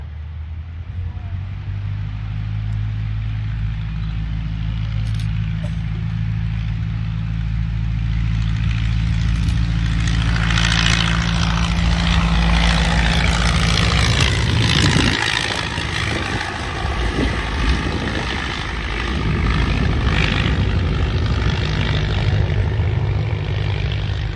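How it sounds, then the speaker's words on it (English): Vintage biplane-era aircraft with a Hispano-Suiza (Hisso) engine at an aerodrome in Rhinebeck, New York, its propeller engine droning loudly and steadily throughout, swelling as it passes close by around the middle before settling back to a sustained roar. "there was only a handful with Hissos, and you're about to hear one of 2 that are left in the world"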